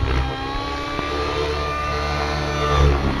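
An engine straining under a heavy load gives a loud, continuous droning hum with a steady pitch and no speech over it.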